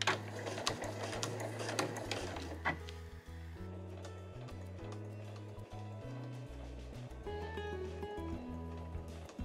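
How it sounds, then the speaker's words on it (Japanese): A sewing machine backstitches over the overlapping handles of a fur tote bag, with rapid mechanical needle chatter in short runs and pauses, close and moderately quiet, no speech. "で持ち手の重なりのところは返し縫いをします。"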